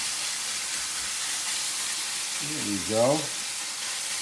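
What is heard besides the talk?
chicken sizzling in a hot wok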